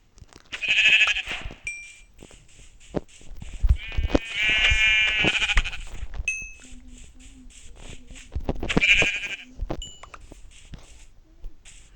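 Synthetic sheep bleats ring out in short bursts, three louder calls spaced across the stretch, with electronic blips and quieter game sounds between them.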